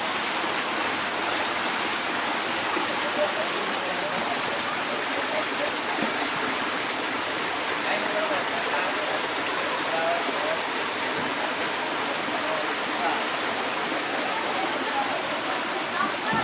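Floodwater rushes through a flooded neighbourhood in Lower Tiparak like a river, a steady, dense roar of moving water that holds at an even loudness throughout, close and continuous, with no clear voices.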